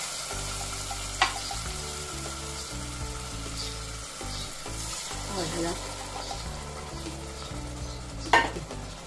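Ingredients for puliyodharai sauté in a pressure cooker with a steady close sizzle and crackle, a few sharp clinks of a spoon against the metal pot breaking through now and then.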